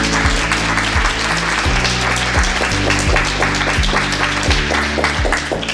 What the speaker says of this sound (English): We can clap and applaud for her, even though she's not here.